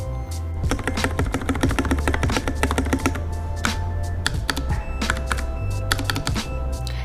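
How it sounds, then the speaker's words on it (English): Repeated spacebar presses on a pre-built Varmilo x Ducky Summit V2 Miya Pro keyboard with factory-lubed stabilizers, close and loud thocky strikes in a fast steady rhythm, mixed with other key clacks. "The spacebar of this keyboard exceeded my expectations. For a pre-built keyboard, there is no ticking or rattling of the stabilizers."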